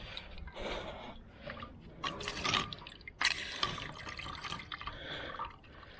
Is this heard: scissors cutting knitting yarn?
no